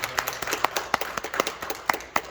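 A church congregation clapping to welcome someone, a steady run of individual claps from a modest group, close and fairly loud, with no talk over them.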